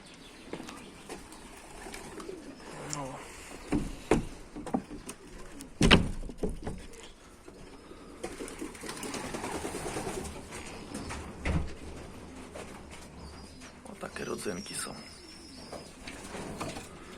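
Pigeons coo softly off and on, mixed with scattered wing flaps and bumps, a busy loft sound with faint voices in the background.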